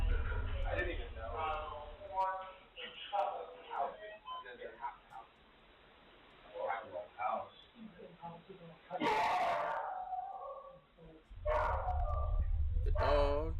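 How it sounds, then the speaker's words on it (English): A dog barks in sharp bursts in a house during a blackout, mixed in with near, steady talk from people in the room. "The dog."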